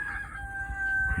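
A rooster crows on a family farm with New Hampshire chickens and hens. One clear, fairly close call rings out over low farmyard background noise.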